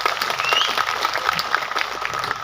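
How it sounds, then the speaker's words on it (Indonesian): An audience at an Islamic religious gathering applauds the organizing committee, with steady dense clapping throughout at moderate loudness and faint voices mixed in. "tepuk tangan dulu buat panitianya."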